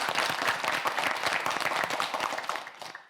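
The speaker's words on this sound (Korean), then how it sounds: "큰 박수 한번 보내주시기 바랍니다" A studio audience at a televised student quiz show breaks into dense, sustained applause for a contestant, with steady clapping that fades out at the very end.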